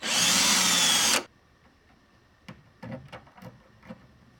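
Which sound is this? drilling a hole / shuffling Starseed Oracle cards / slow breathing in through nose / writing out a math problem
drilling a hole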